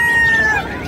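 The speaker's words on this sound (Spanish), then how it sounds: "Vean nada más este kikiriki precioso, está en 400." A bantam kikiriki rooster crows once at a busy livestock market in Yecapixtla, Morelos, a high drawn-out call that fades over about a second amid steady crowd chatter.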